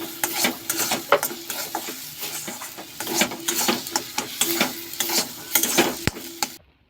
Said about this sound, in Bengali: ডিমটা দিয়েছি, এবার ভালো করে ভেজে নেব।